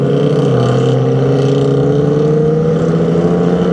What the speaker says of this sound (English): Oh, they're gonna race again.